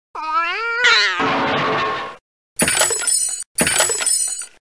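A cartoon cat meows from the Reader Rabbit Reading 1 matching game: one rising, pitch-bending meow, then a few short bright chiming game jingles after a brief pause.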